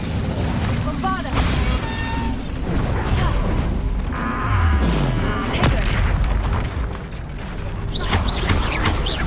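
A Bombarda blasting spell from Hogwarts Legacy goes off amid loud, busy combat: booming impacts and crashing bursts layered with clanking effects, and a voice is heard in the mix.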